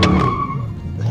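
A Ford Mustang GT Performance Pack's tires squeal loudly and close as its drift-style hydraulic brake locks the rear, a sharp sustained skid with engine rumble beneath, lasting about a second.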